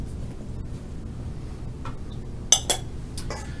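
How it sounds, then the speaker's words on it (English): Sliced apples tipped into a stainless steel bowl, giving a couple of sharp metallic clinks and a soft rattle late on, after a mostly quiet stretch. "I'm going to put them into our stainless steel bowl"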